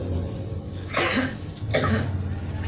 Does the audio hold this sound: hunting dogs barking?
no